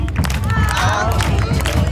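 Festival audience clapping along in rhythm at Ohana Fest, a dense, steady patter of many hands close by with crowd voices mixed in.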